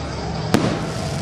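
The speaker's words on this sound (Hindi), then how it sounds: "एक सुंदर सी आतिशबाजी अपने हाथों से" A single sharp firework burst set off by hand at a Dussehra festival Ramlila in Azadpur, one loud bang standing out over a steady crowd hum and background voices.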